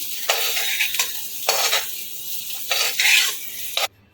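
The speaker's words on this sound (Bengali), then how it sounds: "ফোড়নটাকে ভালো করে ভেজে নেব" Loud, steady sizzling of spices, including black cumin, frying in hot mustard oil in a kadai, broken by several scraping stirs of a spoon against the pan.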